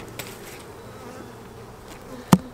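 Honey bees buzz steadily in an opened hive, a close, continuous drone broken by a sharp knock of a hive tool near the end.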